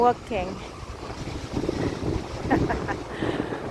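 Gusty winter wind buffets the microphone with low rumbling bursts near St. Joseph's Church in Canada, while faint voices speak briefly in the background.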